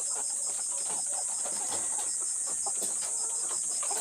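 Pet layer chickens cluck softly and intermittently over a constant high-pitched hiss, with no talking.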